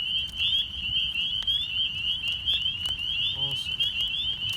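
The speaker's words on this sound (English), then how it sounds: "We have a calling peeper." A spring peeper frog calls in a New Jersey spring wetland, a steady run of thin high peeps repeating close by over soft outdoor background noise, with a brief low sound near the end.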